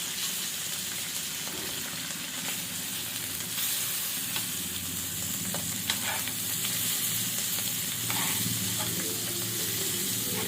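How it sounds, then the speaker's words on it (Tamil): Fish frying in oil in a pan gives a dense, continuous sizzle close by, with occasional light clicks and scrapes as it is moved. "இப்போ மீன் வந்து ஒரு பக்கம் வெந்துருச்சு நம்ம அப்படியே மாற்றி வச்சுருவோம்"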